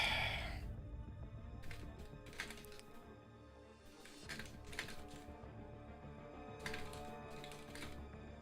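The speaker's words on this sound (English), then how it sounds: "Typing it in the chat right now." Rapid bursts of keystrokes on a computer keyboard, loud and close, come in irregular clusters with short pauses between them and no voice over the clatter.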